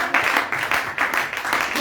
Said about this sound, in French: Acclamons pour notre soeur.